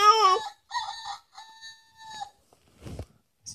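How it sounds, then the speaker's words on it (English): A rooster crow from a toy sound book rings out loud and close in a single stretched cock-a-doodle-doo call, followed by a faint rustle or tap near the end. "The rooster wakes the farmer in the morning."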